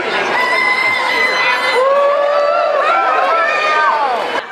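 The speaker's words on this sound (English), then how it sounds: "people get into it every time you hear the rooster crow." A rooster crows over a lively crowd at the Minnesota State Fair, with people chattering and talking throughout.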